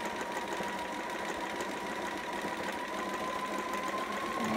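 A sewing machine back stitches on a Riley long john sitter, a continuous close mechanical whir with a steady pitch and a faint rise near the end, with no voices.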